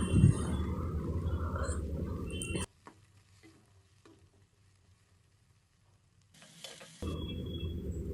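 Onions and capsicum fry in a pan with a close, steady sizzle that cuts out abruptly to near silence for several seconds, then returns.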